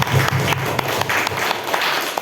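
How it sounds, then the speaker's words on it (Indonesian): Audience clapping for three teacher candidates at an Indonesian school event, a steady wash of many hands at close range that holds evenly for a couple of seconds without speech. "Kita berikan tepuk tangan untuk ketiga calon guru penggerak kita."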